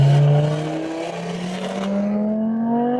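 An Audi RS3 race car at a roll racing event in Brisbane drones loudly and steadily as it accelerates, engine pitch rising smoothly through a long pull, heard close from inside or alongside the car.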